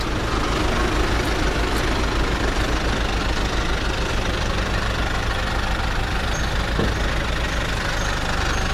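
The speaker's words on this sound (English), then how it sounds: "And engine sound is good." A 2005 Kia Sportage 2WD SUV engine idles close by, a constant rumbling drone with slight knocking, no voices, unchanging throughout.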